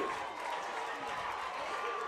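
Crowd at a Columbia football game reacting to a roughing-the-passer penalty, a broad wash of distant murmuring and booing noise that holds steady for a couple of seconds.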